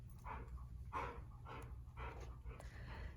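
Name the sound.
dog growling and barking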